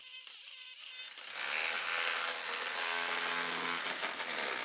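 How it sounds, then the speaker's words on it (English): A rotary hammer chatters loudly against old plaster on a brick wall, starting after a moment of quieter handling noise and then running as a continuous harsh, close-up rattle. "attacking it with the roto hammer, and spraying it down with water as we go"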